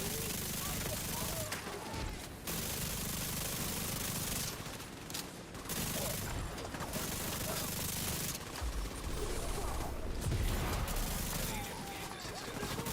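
Sustained automatic gunfire in The Division 2, dense rapid bursts continuing over about thirteen seconds with brief gaps, mixed into game sound and a voice talking over it.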